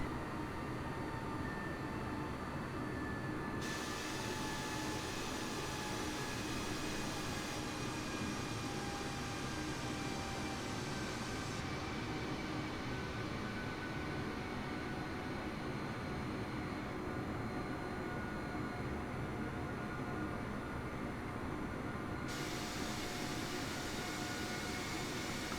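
Inside an airliner sitting on the runway before takeoff in Microsoft Flight Simulator, a steady engine drone and cabin air hum run unbroken at low volume, with faint tonal whines and no talk.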